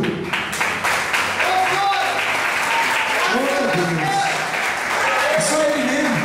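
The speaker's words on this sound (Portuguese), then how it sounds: "Vamos dar uma salva de palmas que a porta já abriu." A church congregation at an evening service applauds loudly and continuously while someone speaks over the clapping, his voice rising and falling above the steady, close wash of hands.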